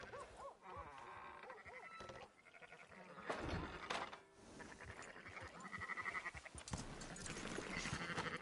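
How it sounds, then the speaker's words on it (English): Sheep bleat repeatedly in the video game Red Dead Redemption 2, several wavering calls overlapping at close range amid farmyard ambience, with a dog-like bark mixed in. "Fine sheep."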